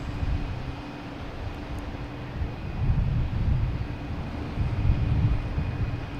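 A JetBlue airliner arriving from Cleveland at Boston Logan airport, a steady low rumble of engine noise swelling and fading gently with some wind buffeting on the microphone.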